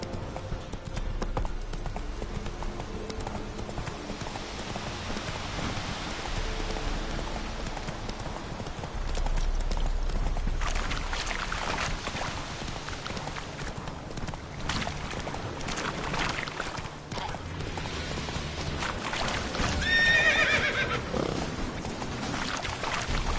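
Roach the horse gallops in The Witcher 3, hooves clip-clopping in a steady rhythm over a wash of ambient game sound, with a brief neigh near the end.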